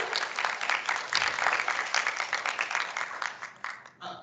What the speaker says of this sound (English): let's do a round of applause for our principal here